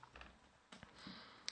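An IP address being typed on a computer keyboard, a quiet run of soft key clicks in short bursts, with a sharper tap at the end.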